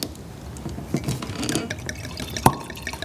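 Pinot Grigio wine poured into a glass, with faint trickling and a few soft drips followed by a sharper clink of glass near the end, all close and quiet with no talk.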